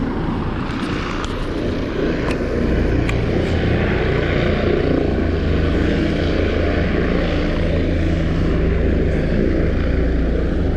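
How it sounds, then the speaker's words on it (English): Steady roar of a helicopter engine and rotor running nearby as it takes off, loud and continuous throughout, with no talking. "We have a helicopter along here."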